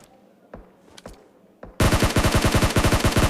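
Gunfire in PUBG Mobile: a few scattered single shots, then a loud, rapid automatic burst of evenly spaced rounds that continues to the end, with no talking.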